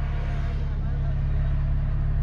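A Mercedes-Benz CLA 45 AMG exhaust in Sport mode gives a steady, loud, low rumble with a deep droning hum, running continuously close to the microphone.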